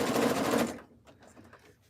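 A sewing machine stitches a jelly roll rug with a dense, fast whirring run that stops abruptly after under a second, followed by faint handling noises.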